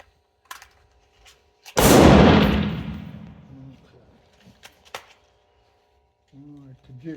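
A single loud shot from a Remington Nylon 66 .22 rifle firing CCI standard velocity rounds, a sharp crack with a long decaying tail, followed by faint handling clicks and brief talk near the end.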